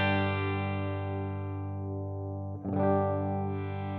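A sustained open chord on a Gretsch electric guitar rings with a dark, muffled tone from the tone knob rolled down, then is restruck once near the end and keeps ringing.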